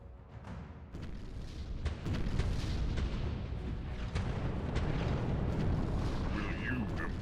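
Heavy space weapons barrage landing in the video game Sins of a Solar Empire, a dense roll of booms and crackling impacts building into a continuous rumble, with a voice talking over it.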